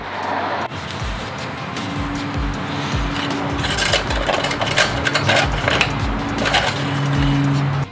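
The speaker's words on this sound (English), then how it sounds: "It's idling pretty good." A turbocharged Subaru BRZ engine idles with a steady low hum and a faint whine running through it, nearby and continuous, with light clatter and rustling around it.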